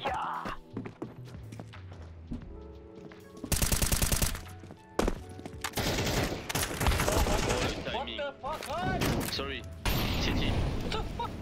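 Counter-Strike gunfire crackles in several sharp bursts, including a dense rapid volley and scattered single shots, mixed with footsteps and other game sounds while players talk over it.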